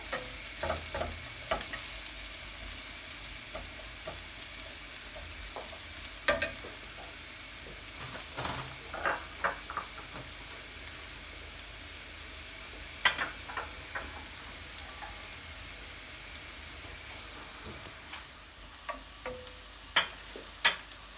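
Mushrooms cook in a pan for homemade noodles, giving a continuous soft sizzle with scattered scraping and stirring clicks and occasional louder taps throughout.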